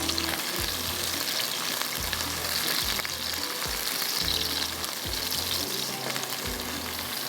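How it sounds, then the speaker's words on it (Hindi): Onions fry and brown in a pan, a continuous loud sizzle and crackle close up, with a low rhythmic hum pulsing underneath. "ये प्याज यहाँ पर ब्राउन हो रहा है"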